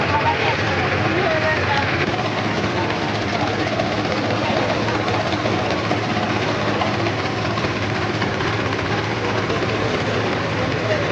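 A motor launch's engine runs at a river ferry crossing near Nabadwip, giving a loud, constant broadband rumble. People talk over the noise.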